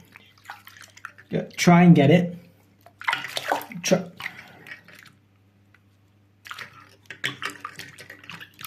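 Running water rinsing toothpaste off a PC component, a splashing, hissing stream heard in bursts with pauses between, while a person talks over it.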